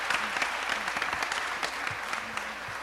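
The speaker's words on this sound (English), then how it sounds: "give, creo que on this day, Mexican Independence Day, Antonio Villaraigosa a huge round of applause" Steady applause for Antonio Villaraigosa at a Los Angeles City Council meeting on Mexican Independence Day, filling the room for about three seconds, with a few faint voices calling out underneath.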